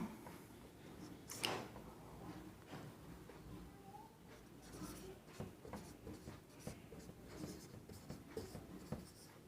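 Pen or chalk writing by hand during a psychology lesson, with faint continuous scratching strokes and soft taps running throughout, quiet and close, with no talking.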